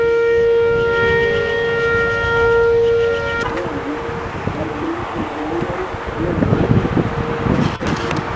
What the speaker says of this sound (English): the Osage Beach tornado warning sirens go off